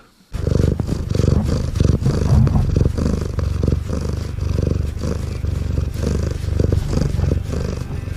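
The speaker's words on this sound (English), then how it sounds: "That is the actual sound of Ryoga purring into the microphone while headbutting it." Loud, close cat purring rumbles continuously, with a deep rhythmic vibration and occasional bumps and rustles as the cat headbutts the microphone.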